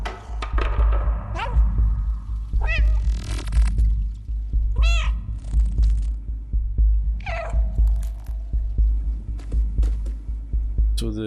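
A cat in the video game Stray meows several times, with clear rising and falling calls heard over a steady low pulsing throb of game music.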